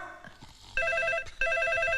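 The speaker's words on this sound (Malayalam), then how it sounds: "സാറേ ഫോൺ." A telephone bell rings in two clear bursts with a short gap between them, loud and close, standing alone without any talking.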